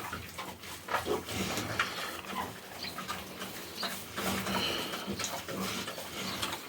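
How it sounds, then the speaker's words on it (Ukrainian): A sow on a farm eats feed pellets, with continuous close crunching, chomping and snuffling at the trough, sporadic clinks and a low porcine grunt or two underneath. "Вона їсть гранулу."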